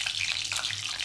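Curry leaves, cumin and mustard seeds sizzle in hot oil for a chivda tempering, a soft, steady crackling hiss with small pops, heard alone and fairly quiet.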